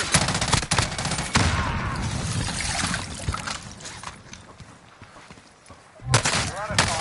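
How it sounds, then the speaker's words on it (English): Video game gunfire in a team shooter match, bursts of shots crackling at the opening and again near the end, with a player's voice talking over the middle stretch. "Taking fire here."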